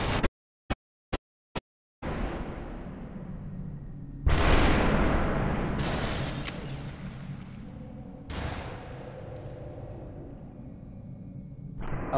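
Gunshots from the video game SUPERHOT: a few faint clicks, then three loud booming shots, each trailing off, at intervals of about two seconds.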